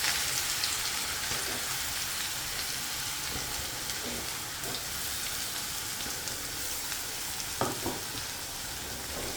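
Shredded cabbage is tipped into a pan of hot oil with crackling mustard seeds, giving a steady, close broadband sizzle with scattered pops and a brief louder burst near the end, with no talking.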